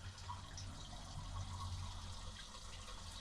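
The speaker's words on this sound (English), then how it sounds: "That's a lot of fuel being transferred there." Liquid fuel gushes steadily through a Harbor Freight battery-operated fuel transfer pump, a continuous close-up rushing flow that holds at an even level throughout with no talk.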